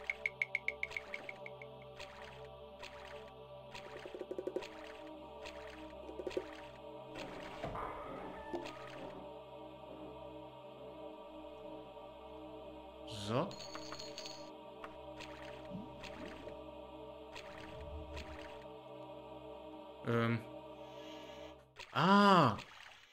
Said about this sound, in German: Hier sind wir wieder unter Wasser erstmal.